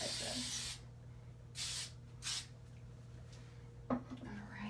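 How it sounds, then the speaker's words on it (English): Short hissing bursts of Chic 3-way hairspray sprayed onto teased hair, three or four quick sprays at close range over a faint background hum, with no talking. "now we're going to go ahead and hit it with the Chic 3-way hairspray"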